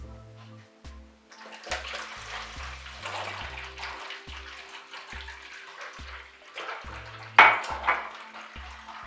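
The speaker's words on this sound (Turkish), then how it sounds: "Şimdi bir huni yardımıyla bu ikisini bunun içine döküyorum." Homemade lemonade liquid poured through a funnel into a container, a soft trickling splash with light clinks, fairly quiet and close, rising to a brief louder pour near the end, with a faint thumping background beat.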